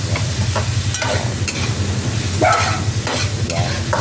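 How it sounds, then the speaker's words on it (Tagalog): Cooked beef innards sautéing in a pan, a loud close sizzle with repeated rhythmic scrapes and stirring strokes of a spatula roughly every half second, continuous throughout. "Gisa na natin yung lamat-loob ng baka."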